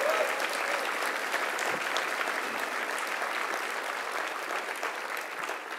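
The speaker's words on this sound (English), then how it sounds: "Let's give her a round of applause." Sustained audience applause following a speech by Governor Cuomo, a dense, steady clapping from a large room that continues without a break, with no talking over it.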